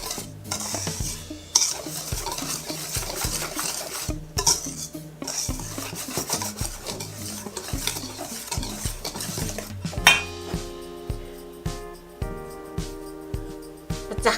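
Jalapeño cheese cornbread batter is stirred in a bowl, giving continuous close scraping and rubbing strokes with utensil clinks, then sharper separate taps toward the end.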